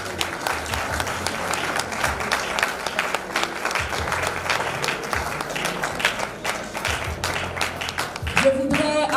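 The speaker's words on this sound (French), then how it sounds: "On peut l'applaudir." Audience clapping at a foundation presentation during FIED Dakar 2022, steady applause lasting throughout with voices and crowd murmur mixed in, ending in a louder shuffle of sound.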